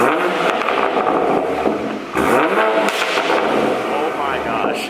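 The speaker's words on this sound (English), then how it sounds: "Now let's hear a startup and some revs." Loud, close revving from an A90 Toyota Supra fitted with a downpipe, engine rising and falling in repeated bursts with crackles and pops between, people talking faintly underneath.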